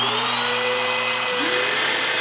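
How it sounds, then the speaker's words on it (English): A CNC router spindle switches on and spins up to a high, steady whine with clear tonal harmonics, some lower tones shifting as it settles, close and loud throughout. "Turn the router on."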